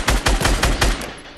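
A quick burst of five rapid gunshots from a video game, loud and punchy, followed by a brief fading echo.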